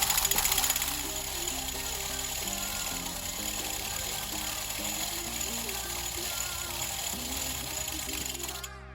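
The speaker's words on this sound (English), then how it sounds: "you turn the pedals backwards 10 times so that every link gets a good brushing with solvent many times" A bicycle's pedals are turned backwards while a chain cleaner scrubs the chain with solvent, and the freewheel ratchet clicks steadily and rapidly, close and continuous throughout, over a faint background hum.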